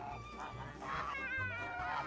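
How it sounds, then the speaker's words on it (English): Several geese honk noisily together close by, overlapping harsh calls filling the clip. "mom hatched 6 geese, and they only like her"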